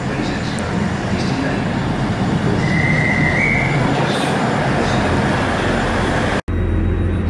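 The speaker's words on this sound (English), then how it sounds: "So welcome aboard my 158, stroke 159" Interior of a South Western Railway class 158/159 diesel train travelling to Salisbury, a steady loud rumble of engine and wheels with a brief high squeal midway and a sharp break near the end.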